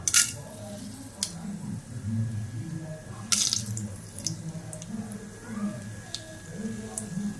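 Chana dal goes into hot oil after popped mustard seeds, frying with a soft, watery crackle and a couple of sharper bursts, while a voice talks quietly over it.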